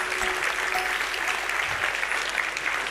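Steady audience applause fills a national science-communication final at a university hall, dense even clapping from many hands that holds at a constant level throughout with no voices on top.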